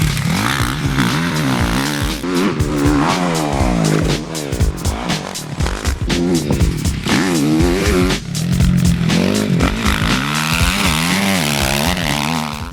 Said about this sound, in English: today we're testing Cody Cooper's championship winning Z450.